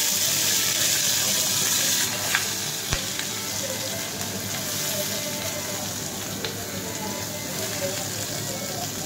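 Curry leaves crackling in hot oil for a tiffin chutney, a continuous bright sizzle with a few sharp pops and a light knock, fairly close and alone.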